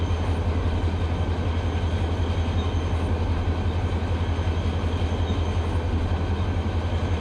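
An Amtrak train rolls past in the Run8 train simulator game, a loud, steady rumble with a deep low drone and constant wheel noise, continuous and unbroken.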